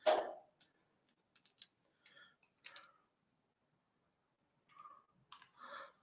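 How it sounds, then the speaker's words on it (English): Paper trim scissors snip through paper in a few short, quiet clicks and crisp cuts, scattered across a near-silent background with pauses between strokes. "let me just find my paper trim scissors here"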